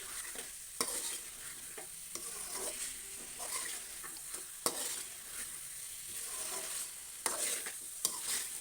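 A spoon stirs chicken gravy in a pan, making a quiet, close simmering sizzle broken by scattered sharp clicks and scrapes against the metal, with no voices.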